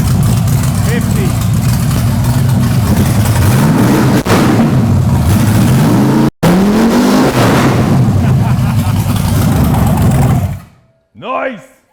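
Chevrolet LS1 V8 in a C5 Corvette, loud and close, running with a steady rumble and several sweeping revs, then cutting out before a final short blip; people talk over it.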